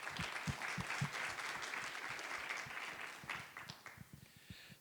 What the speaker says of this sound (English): a warm round of applause for our guests